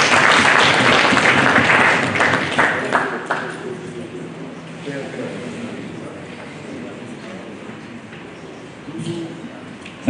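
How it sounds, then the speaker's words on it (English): Audience at a real estate and infrastructure conference in Acholi bursts into loud, dense clapping that fades after a few seconds into a quiet room murmur, with a little movement near the end. "Let's welcome him with a clap."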